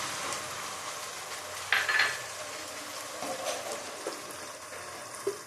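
Mutton sizzles in a pan after ginger-garlic paste is added, giving a soft steady hiss with a few clanks of a spoon against the pot.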